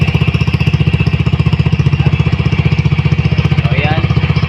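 A Mio i 125 scooter fitted with an open-muffler AI Tech pipe idles close by, its exhaust popping in a fast, even, loud pulse throughout, with a faint voice briefly underneath.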